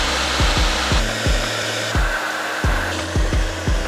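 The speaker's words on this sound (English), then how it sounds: "I can only suggest you grab yourself a hairdryer" A hair dryer blows with a steady whooshing hum, broken by a series of low, regular thumps or knocks repeating under the airflow, heating decals to peel them off a mountain bike fork.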